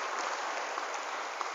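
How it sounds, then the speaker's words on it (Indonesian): Applause at a public speaking motivation seminar in an Islamic boarding school, a faint, even crowd clapping wash heard from a distance for under two seconds. "Tepuk tangan buat 25 tahun hari ini"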